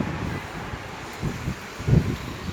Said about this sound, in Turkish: Allah çok esiyor.